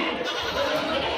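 A goat at the crowded Solapur goat market bleats amid the dense, steady roar of the busy market crowd and livestock, with no clear speech standing out.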